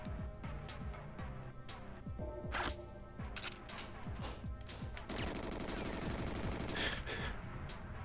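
Gunfire and grenade blasts from the video game GoldenEye 007 Remake fill a dense, continuous battle. Rapid shots overlap with heavier bursts in the middle and near the end, and everything stays at a steady, fairly quiet level.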